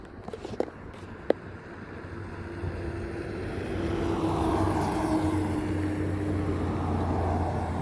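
A jet airplane near a military air base makes a broad roaring rush that swells and holds steadily as it passes, after a few sharp clicks at the start.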